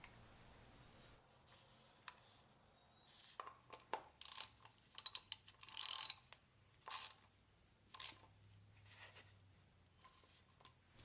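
Someone tightens the oil filter cap on a Toyota Tundra 5.7L V8 using a ratchet, producing scattered bursts of close mechanical clicking and scraping with short pauses between them, and no voices heard.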